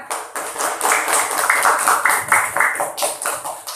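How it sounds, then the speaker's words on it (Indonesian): A classroom of students claps together in a steady, dense burst of applause during an Islamic religious education lesson, the clapping loud and close and continuing throughout. "Ya, tepuk tangan."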